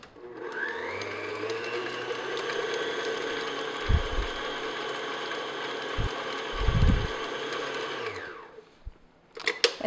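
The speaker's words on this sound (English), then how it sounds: "I'm just going to beat it just till it becomes creamy and smooth" An electric mixer beats soft unsalted butter until creamy and smooth, giving a steady whining motor hum with a few dull knocks against the bowl before it winds down and stops.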